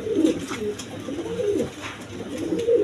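A breeding pair of Danish pigeons gives low, throaty cooing in rolling phrases, close and continuous, with no talk.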